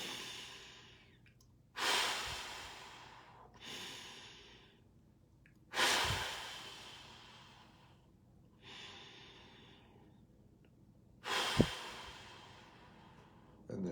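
Slow, deep meditative breathing, long nasal inhales followed by audible blown-out exhales, repeating roughly every four seconds in three clear rounds, close and alone in a quiet room.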